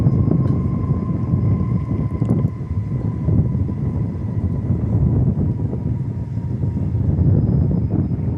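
Boeing 777-200 jet at Dallas Fort Worth Airport, a steady loud low engine roar with a faint high whine, continuous and fairly near throughout.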